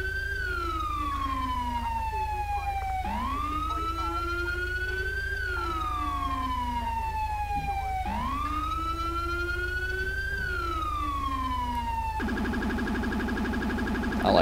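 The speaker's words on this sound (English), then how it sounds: "the siren is beautiful, from the horn itself with a couple background sounds mixed in." A Rumbler police siren mod in Grand Theft Auto 5 wails, rising and falling in long, slow sweeps, loud and steady, then switches briefly to a rapid warble near the end.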